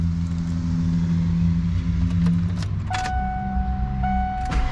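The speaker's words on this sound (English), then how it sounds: "You guys did see the power window went back down." Electric power window motor in a 1995 Ford Bronco XLT, heard from inside the cab: a steady whine runs for a few seconds, then shifts pitch with brief clicks as the glass moves and stops.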